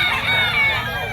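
Rooster crowing at a busy pet market, a short loud close call with harmonic tone over crowd noise.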